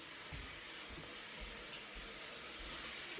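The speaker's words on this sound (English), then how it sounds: "I'm gonna get in the shower right now." Shower water running in a bathroom, a steady broadband hiss and rush that holds evenly for the whole stretch with no voices over it.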